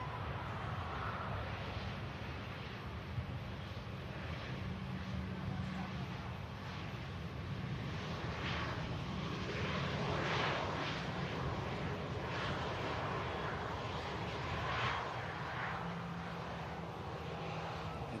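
An Atlas Air Boeing 747 departs, its jet engines giving a sustained, distant rumbling roar with shifting tones over about eighteen seconds, while voices talk over it now and then.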